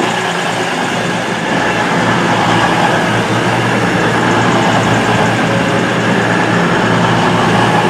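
London Midland passenger train running into a station on the service to Liverpool Lime Street, a loud, steady rumble of wheels and engine heard close up throughout.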